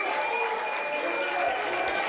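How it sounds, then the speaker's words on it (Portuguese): A studio audience at a televised political debate gives the candidates sustained applause, a dense, even wash of clapping throughout, with a faint low hum under it near the end. "um grande aplauso"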